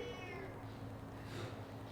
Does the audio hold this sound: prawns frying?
no